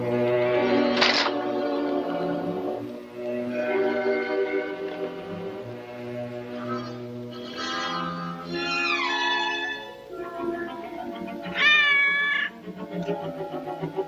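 A cat meows and yowls repeatedly at close range, drawn-out wavering cries rising and falling through the passage, with several sharper high-pitched calls.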